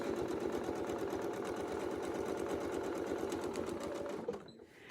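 A sewing machine stitches a quilt guided by a Westalee ruler, running at a fast steady rattle close up and loud for several seconds before slowing and stopping.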